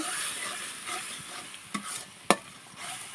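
Pieces of cleaned snakehead fish are stirred into hot, well-fried spice paste in a pan, giving a steady sizzle with a couple of sharp scraping clinks from the spoon.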